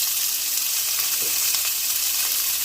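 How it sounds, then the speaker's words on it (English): Grapeseed oil in a pan before white onions go in, sizzling and popping loudly and close in a dense, continuous hiss with small crackles scattered throughout. "This oil, this grapeseed oil is popping"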